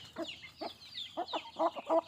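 Chickens on a small native-breed farm cluck in a string of short, close bursts, rising and falling with a few louder calls near the end.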